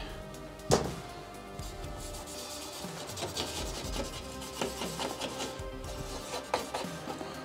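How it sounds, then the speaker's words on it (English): A grimy Daewoo 19-inch CRT monitor's plastic casing being scrubbed, giving steady rasping, rubbing strokes with a sharp knock near the start, close and alone with no talking. "I think we'll give this a little bit of a scrub here."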